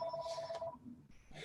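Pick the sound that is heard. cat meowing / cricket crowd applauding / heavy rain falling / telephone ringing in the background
telephone ringing in the background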